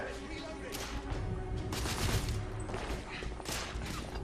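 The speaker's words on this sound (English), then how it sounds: "There's guys shooting at us." Enemy gunfire in The Order: 1886 video game, rapid overlapping bursts of shots rattling at moderate distance amid busy, fairly quiet game ambience.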